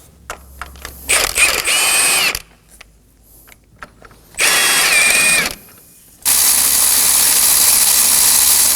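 A power tool whirs in several bursts while removing engine mount bolts on an Acura MDX: short ratcheting spurts, then two longer loud runs separated by quiet pauses, close and with no speech.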